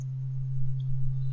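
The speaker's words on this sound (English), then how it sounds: "So this is our sine wave." A steady, low synthesizer oscillator sine wave hums continuously and evenly throughout, a plain pure tone with no talking.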